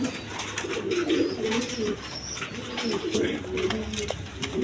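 Imported pigeons cooing close up, repeated low throaty coos in soft rolling phrases, with faint background chatter.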